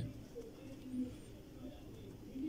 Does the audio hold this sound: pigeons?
yes